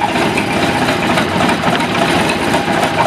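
A boat engine idles nearby, making a steady, dense, loud rumble that runs unbroken for the whole few seconds with no talk over it.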